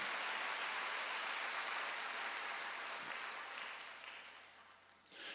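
Sustained applause from a church congregation during a Wednesday worship service, a dense even patter of many hands clapping that fades toward the end.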